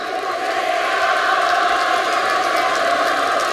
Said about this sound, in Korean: 서로 박수 치면서 행복하세요 하시는 거예요